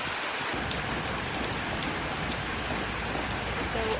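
Steady rain falls outside on a dark, cold, cloudy early morning, a soft continuous patter of drops on surfaces with no voices over it.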